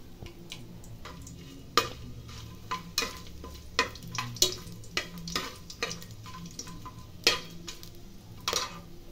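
Whole pulao spices (star anise, cinnamon, cloves, marathi moggu, bay leaf, two cardamoms and fennel seeds) frying in a pan, with scattered sharp clicks and pops from a stirring spoon over a low, steady sizzle.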